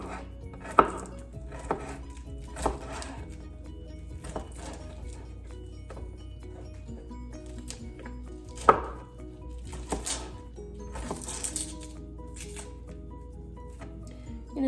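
A knife chops through grass-fed beef tallow for rendering in a kitchen, in uneven, moderately loud thunks on a board with short pauses, close up over a faint background hum.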